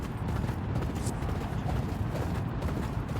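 Racehorse hooves gallop in the Champion Jockey racing video game, a dense, rapid drumming of hoofbeats with a mechanical clatter, steady and fairly loud throughout with no talking.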